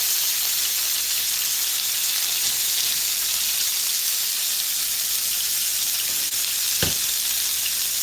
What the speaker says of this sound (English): So I got my steaks cooking up.